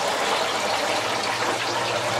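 Water running through a DIY Dutch bucket hydroponics system during its first test, a loud, dense, continuous gushing flow with no talk over it.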